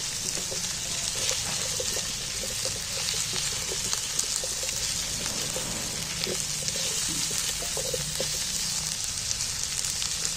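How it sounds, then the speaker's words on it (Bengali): Chopped onions fry and sizzle in hot oil in a pan while being stirred, a steady close hiss with occasional soft scraping of the spoon, no talking. "এইবার আমি তেলের মধ্যে একটু পেঁয়াজের সাথে মিক্সড করে খুব ভালো করে মেখে নিচ্ছি, নাড়াচাড়া করে নিচ্ছি।"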